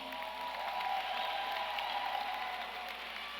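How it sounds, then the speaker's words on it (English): A crowd at a 2024 high school graduation ceremony for a young women's leadership academy applauds the graduating students with steady, distant-sounding clapping and faint cheers throughout the short stretch. "Please give them a round of applause."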